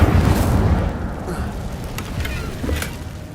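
Incendio fire spell cast in Hogwarts Legacy, a fiery whooshing burst that starts strong and tails off, with a few short crackles following.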